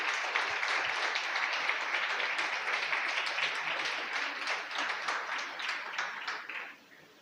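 A church congregation at Vida Church in Maturín applauds in a sustained burst of dense clapping that fades toward the end.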